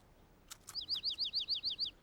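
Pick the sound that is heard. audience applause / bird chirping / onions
bird chirping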